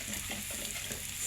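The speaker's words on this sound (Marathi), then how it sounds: "तिथे भाजून चांगला असं तळते" Toor dal fried and stirred in a pan, a brief, steady sizzling hiss with soft scraping strokes, close and fairly quiet.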